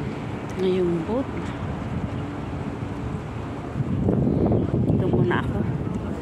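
Seaside wind buffets the microphone on a boat along the Tsing Yi waterfront, a steady rushing roar that swells toward the end, with a few words of speech over it.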